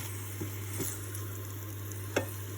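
Steaks frying in butter in a pan, a steady soft sizzle with a few faint scrapes and taps as they are stirred; no talk.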